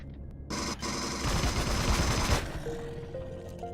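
Gunfire aimed at an enemy in the sci-fi survival game Empyrion Galactic Survival, a dense rapid burst of shots lasting about two seconds, loud and close, then fading into a faint electronic tone.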